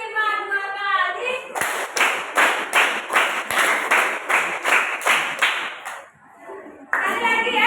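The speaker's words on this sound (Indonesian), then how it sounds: "Tepuk 1, tepuk 2, tepuk 3." A class plays a clapping game, with a group clapping in unison in a quick, steady series of about nine sharp claps. A voice is heard before and after the claps.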